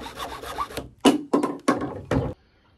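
A hand saw cutting a PVC pipe offcut, with a few quick rasping strokes followed by four distinct, louder back-and-forth strokes before stopping, close up and with no voices.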